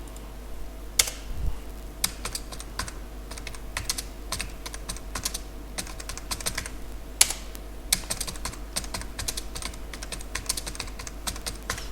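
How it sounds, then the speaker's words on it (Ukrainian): Several lines of text are typed on a computer keyboard, giving irregular bursts of close, crisp key clicks with brief pauses and a few louder strokes, heard alone over a low steady hum. "Набираємо нам стільки потрібно рядків тексту."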